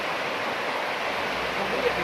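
A river flows close by in Georgia, a continuous broadband rushing wash with no pauses, heard steadily throughout.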